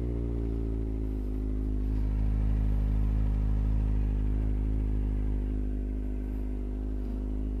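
A Kawasaki ZX25R motorcycle engine idling and revving, a steady harmonic drone with slight swells in pitch, close and continuous with no one talking.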